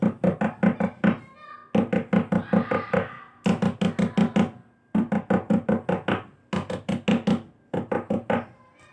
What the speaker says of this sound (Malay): dia dengar ada beberapa kali ketukan pintu dekat bilik mandi